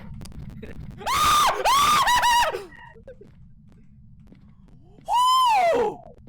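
Shrill screams from players of the Phasmophobia horror game: two bursts of high, wavering yells about a second apart, then quiet, then another long rising scream, loud and close.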